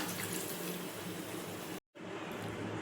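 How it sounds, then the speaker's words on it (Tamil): Water pours steadily into a pan with a soft, continuous splashing hiss, broken by a brief silent cut near the end. "தேவையான அளவுக்கு நம்ம தண்ணி ஊற்றிக்கலாம்."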